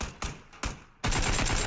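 PUBG gunfire: two sharp shots close together, then a loud sustained burst of rapid fire, all at close range in the video game.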